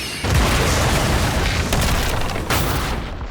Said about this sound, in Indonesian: namun tiba-tiba terjadi sebuah ledakan besar